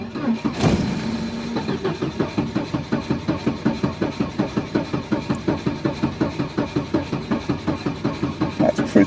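A car engine cranks steadily on a restored old battery, the starter turning over in a long, even rhythm of regular loud pulses after a sharp initial click, continuing for several seconds without catching.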